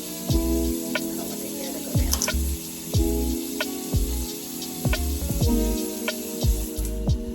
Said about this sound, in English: And then I rinse. And as you can see the conditioner just coming out